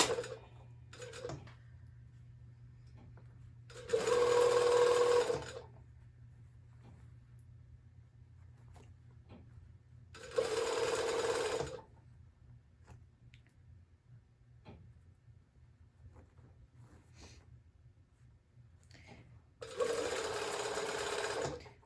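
A sewing machine stitches a shirt sleeve to its cuff in three short, steady whirring bursts of about a second each. Long quiet pauses separate the bursts, and a low hum sits underneath throughout.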